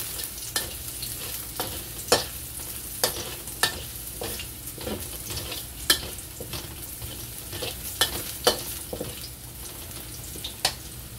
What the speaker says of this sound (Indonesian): Kita oseng sampai coklatan agar tercium aroma harumnya.